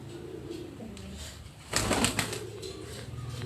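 Pigeons on a rooftop loft in Larkana, Sindh, give soft low coos under a continuous background hum, with a brief burst of wing flapping midway.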